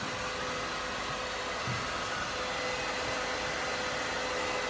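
A hair dryer blows steadily on the fringe, aimed down from directly above the head, a loud, close, unbroken whoosh throughout with no talking.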